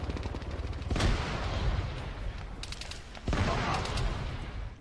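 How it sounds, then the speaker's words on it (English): Enemy gunfire in Arma 3 King of the Hill, with two loud close gunshot bursts and a spread of rattling distant fire and echoing reports around them. "It's quite hard to tell where all the enemy gunfire's coming from at this point."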